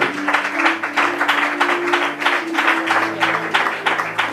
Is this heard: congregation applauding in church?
yes